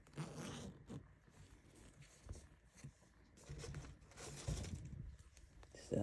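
A clothing zipper added to an existing garment is worked open or closed, giving scratchy rasping bursts with soft handling rustle in between, close and fairly quiet.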